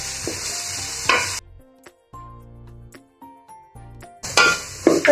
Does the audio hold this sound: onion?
yes